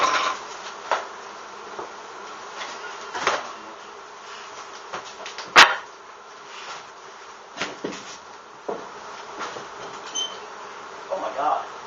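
Honeybees swarm and buzz around a hive being removed from a shed wall, a steady drone with louder passes near the microphone, broken by occasional knocks and brief voices.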